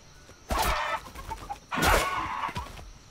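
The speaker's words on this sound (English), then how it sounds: "So now we're looking for chickens or dodos, if you prefer." A chicken in the video game Atlas clucks in two loud bursts with a shorter squawk after them, close and distinct against a quiet background.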